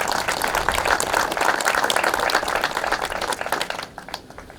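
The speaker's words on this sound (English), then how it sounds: "So let's give them a round of applause, please." An audience claps for school officials at an elementary school addition ribbon cutting, steady close applause that thins out and stops near the end.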